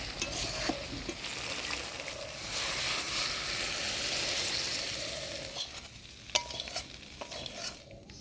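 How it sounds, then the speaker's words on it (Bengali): Doi bhendi, okra in yogurt with garam masala powder, being stirred in a sizzling pan: a steady close frying hiss with soft scraping strokes and a few sharp utensil clicks near the end, with no voices. "এবার একটু গরম মশলার গুঁড়া দিয়ে নাড়াচাড়া করে নামিয়ে দিব"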